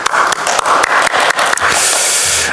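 Church congregation clapping during an online worship service, a loud dense burst of applause with sharp individual claps, then thinning into a brighter hiss toward the end.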